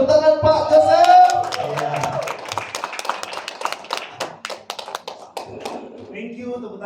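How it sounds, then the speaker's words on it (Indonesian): Audience clapping for a keynote speaker at an evening detox and marketing seminar in Medan, loud sharp claps at first, then thinning into scattered taps, with a voice briefly heard over the start. "Tepuk tangan Pak Joseph."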